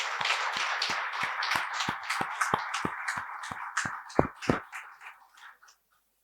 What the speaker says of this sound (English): I think this entire team who are involved in this deserve a very big round of applause.